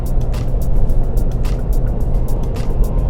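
A Suzuki Jimny with old gear ratios drives at speed, its engine droning in a loud, steady low rumble mixed with road and wind noise, with faint ticking clicks recurring over it.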